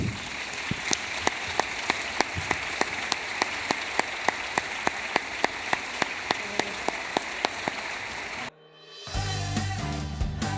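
An audience at a tribute evening for Julio Cortázar applauds the panel guests, with steady, evenly spaced claps over a broad crowd wash for about eight seconds before cutting off abruptly into music.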